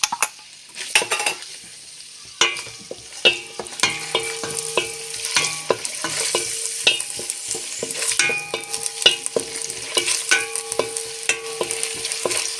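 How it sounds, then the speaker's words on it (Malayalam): Chopped onion sizzling and frying in hot oil in a pan, with repeated spoon-stirring scrapes and clinks over a steady crackle, close and fairly loud, no talking. "നമുക്ക് സവോള ആദ്യം ഇട്ട് കൊടുക്കാം"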